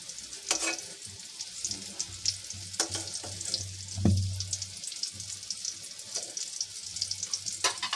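Jackfruit koftas fry in hot oil with a steady close sizzle, broken by a few sharp crackles and splashes and a brief low thump near the middle; no one speaks.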